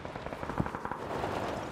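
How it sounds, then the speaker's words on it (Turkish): Gunfire in an online shooter video game, coming from the player's left: a scattered run of faint, distant shots and short bursts over steady game ambience, with no talk. "Evet, soldan silah sesi geldi."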